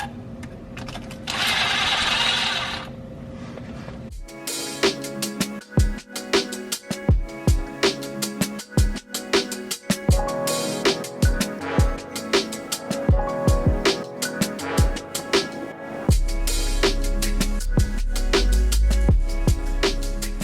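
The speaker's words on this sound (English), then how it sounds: "I'm gonna go ahead and take the rest of the bolts out of the pan here" A ratchet takes out the oil pan bolts on a small-block Chevy 350 in a C4 Corvette, clicking in rapid, irregular runs for over ten seconds after a short whirring burst, close and loud, with no talk.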